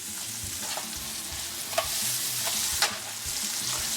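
Mushrooms fry in a pan over high heat with a continuous bright sizzle, broken by a couple of sharp stirring clicks along the way; no one talks.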